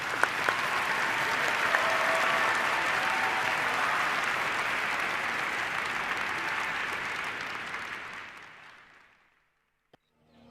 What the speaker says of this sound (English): I suggest that all together we share an applause for them